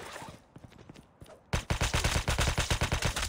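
An ASM-10 rifle fires in Call of Duty Mobile: after a few quieter taps, a loud, rapid automatic burst of evenly spaced shots runs without pause to the end.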